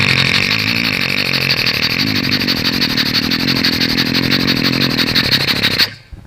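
A performer's voice imitates a motorcycle engine together with a train, a loud, steady, buzzing drone that holds for about six seconds before cutting off abruptly.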